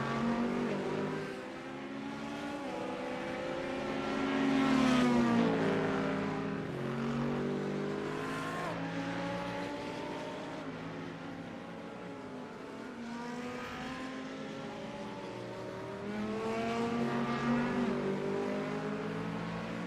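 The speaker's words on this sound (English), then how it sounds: "Mitch Crowther is going to find the way around the outside line and into the braking at the International Horseshoe" GT race cars roar around a circuit in a sim racing video game, their engines rising and falling in pitch as they accelerate and brake in overlapping waves that swell loudest near the middle and end.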